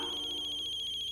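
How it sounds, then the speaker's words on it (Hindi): A phone rings in a household scene, giving a steady electronic tone at a single pitch that repeats in quick pulses for just over a second, quiet and with no voices over it. "फोन बज गया।"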